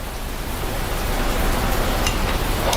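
Heavy rain pours down in a steady, dense broadband hiss that holds evenly throughout, with no voices over it.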